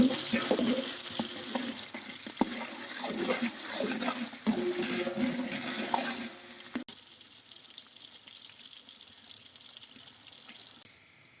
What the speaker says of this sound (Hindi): प्याज को हमने फुल ब्राउन करना है